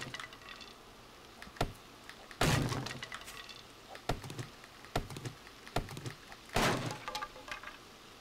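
Wood being smashed apart in 7 Days To Die, with a series of sharp cracking and splintering impacts, some louder bursts among lighter taps, fairly quiet with irregular spacing.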